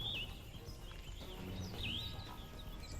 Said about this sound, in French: il y a des petits bruits d'oiseaux là